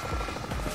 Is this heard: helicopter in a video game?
yes